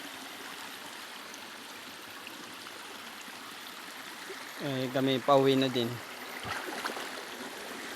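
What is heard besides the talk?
small stream water flowing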